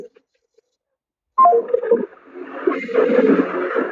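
A phone ringback tone purrs in repeated bursts over a line, with faint background murmur mixed in.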